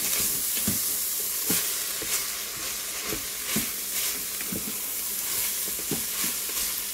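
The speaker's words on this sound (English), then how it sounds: "the garlic, and the onion. And I'm just going to mix that around" Garlic and onion with salt and pepper sizzle steadily in an Instant Pot on sauté, while a utensil stirs and scrapes the pot in a loose rhythm of soft knocks, close and continuous.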